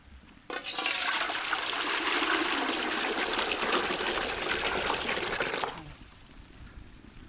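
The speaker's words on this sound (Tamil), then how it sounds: "உருளைக்கிழங்கு வேக வைக்க தண்ணி ஊற்றிக்கலாம்." Water poured into a pot to boil baby potatoes in a village kitchen, a steady close gush lasting about five seconds before it cuts off, leaving faint background noise.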